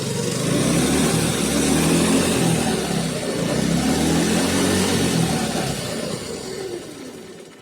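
A Polaris 120 snowmobile fitted with a 212cc Predator engine revs loudly and close, a rough, droning roar that swells and eases over several seconds, running cold and not wanting to idle, with no talking.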